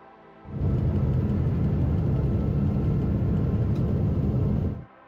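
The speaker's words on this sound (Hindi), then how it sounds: "एक जलता हुआ प्लेन इंजन" A burning airplane engine on United Airlines Flight 328 after departing Denver International Airport in February 2021 gives a loud, steady, close roar that starts abruptly, holds for about four seconds, then cuts off.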